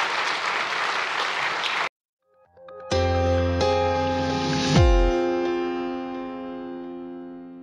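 Applause from a live chess commentary audience for grandmaster Anish Giri, a loud dense patter of clapping that stops abruptly, followed after a pause by a sustained ringing chord-like tone that slowly decays.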